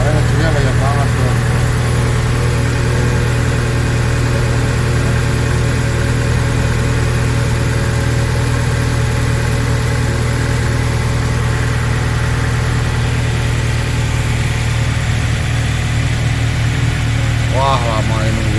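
The engine of a Nissan Serena C23, said to have a rough sound, idles steadily and loud at close range, with a constant low drone throughout.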